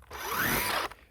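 A Makita DUX60 cordless multi-function power head runs in a brief, loud whirring burst lasting under a second, then cuts off abruptly.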